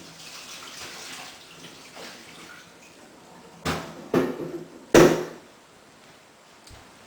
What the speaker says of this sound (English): I'm going to empty the water off.